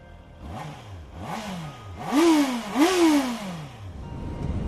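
A Honda CBR650R motorcycle, nearly new with under 1000 miles, pulls away on a test ride, its engine revving up through four rising, sweeping gear pulls that grow louder and then settle.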